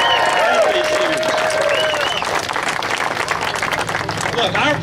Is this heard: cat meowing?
no